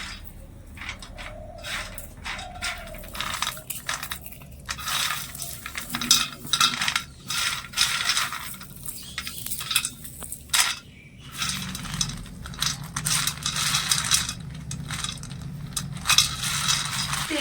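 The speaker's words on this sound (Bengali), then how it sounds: "এভাবে হাত দিয়ে ঘষে ঘষে এর উপরের খোসাগুলো একটু পরিষ্কার করে নেবো" Roasted peanuts are rubbed between the hands to strip off their skins, giving a continuous dry rustling crackle with uneven scratchy bursts, close up.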